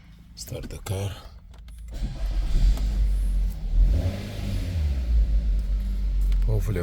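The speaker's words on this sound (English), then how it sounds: "Start the car." A 2016 Nissan Rogue starts up after a used transmission swap; a click and short crank give way to a low steady engine rumble that settles into idle, close by, with a brief voice near the start.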